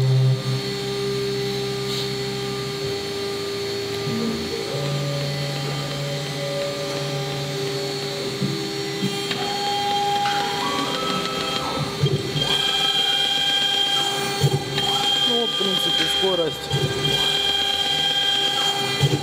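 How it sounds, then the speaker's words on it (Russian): CNC milling machine cutting a cliche stamp with a 6 mm end mill, a loud continuous motor whine and grinding with shifting tones as feed speed changes, steady throughout without talk. "Фреза у нас шестерка, концевая, шаг 3 мм."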